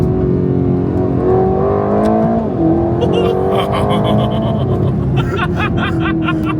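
An Aston Martin Vantage engine revs hard and climbs in pitch through the gears, loud and close, with a rising roar and crackling exhaust.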